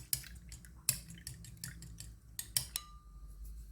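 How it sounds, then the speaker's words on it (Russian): Egg whisked with about 50 grams of water in a bowl for a dipping mix, heard as quiet irregular clinks and taps of utensil against the bowl with short wet drips, close up and without speech. "Для обмакивания я смешала яйцо,"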